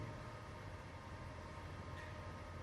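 A train rumbles steadily in the distance, a dense, continuous roar of rolling wheels and rail noise.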